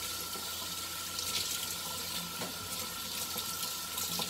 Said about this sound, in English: I'll show you how easy this rinses out.